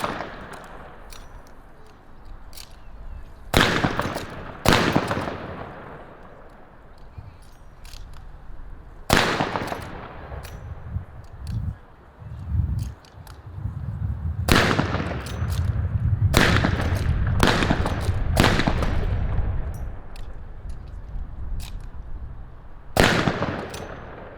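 .303 rifle firing ten rounds from its magazine in rapid succession, a run of sharp, loud cracks several seconds apart with echoing tails and mechanical handling noise between shots.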